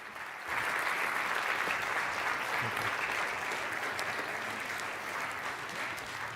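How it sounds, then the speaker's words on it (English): Sustained applause from a large audience at a live debate event on technology and China, steady and full across the whole stretch with no voices over it. "thank you for the applause"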